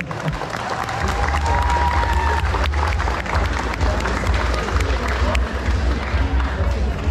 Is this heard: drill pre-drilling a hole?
no